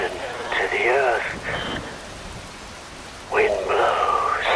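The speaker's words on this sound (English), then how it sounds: "Rain falls." Steady rain falls in the video game Metal Gear Rising: Revengeance, a soft constant wash running beneath louder tonal voices or game sounds that swell near the start and again toward the end.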